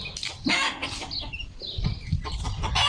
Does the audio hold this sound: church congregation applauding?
no